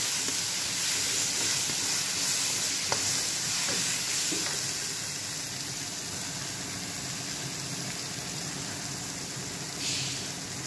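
Curry leaves sizzle in hot oil while cooking crab curry, a steady soft frying hiss with a few faint clicks of stirring and no talk.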